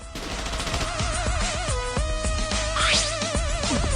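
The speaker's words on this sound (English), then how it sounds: "Where did that gunfire come from?" Gunfire in the Danganronpa video game, a dense burst of shots and impacts layered over a continuous game music track, loud and sustained for the whole stretch.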